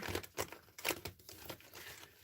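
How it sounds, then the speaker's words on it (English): Tarot cards being shuffled by hand, a run of soft crinkling, riffling bursts at an uneven rhythm, close and fairly quiet with no talk. "I'm being guided to keep shuffling, so you guys bear with me."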